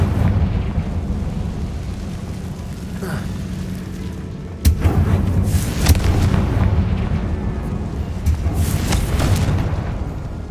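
Incendio and Confringo spell blasts in the Hogwarts Legacy video game: a sudden loud boom about halfway through, followed by rumbling bursts over constant dense game noise, close and prominent.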